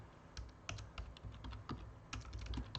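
Keys clack on a computer keyboard in quick, irregular bursts, faint and close, with short pauses between clusters of strokes.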